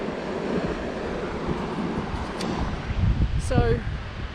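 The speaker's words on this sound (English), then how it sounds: "that's pretty much the wave at Chicama" Surf rolls in at Chicama, Peru, a strong point break, as a continuous roar mixed with wind buffeting the microphone, swelling louder toward the end with a brief squeaky rattle.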